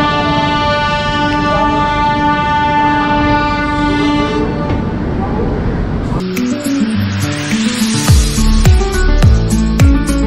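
The Lichchavi Express runs on rails between Belthara Road and Anand Vihar, Delhi. A long, loud horn tone sounds over a steady rumble, followed by rhythmic clattering of wheels over rail joints.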